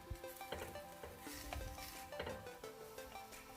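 Kimchi stir-fried in a pan over medium heat, a quiet steady sizzle with scraping spatula strokes and light metallic taps.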